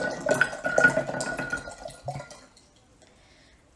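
Kombucha SCOBY culture with liquid being poured into sweet tea, a splashing, trickling pour for about two seconds that then tapers off into quiet.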